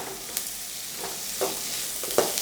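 Crushed garlic and onions frying in oil in a pan, a soft steady sizzle with a few light scrapes of stirring, close and fairly quiet.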